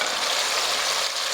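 Tomatoes tipped into a pan of browned, frying onions give a steady, loud sizzle with a bright hiss. The hiss holds evenly through the short moment, with no voices.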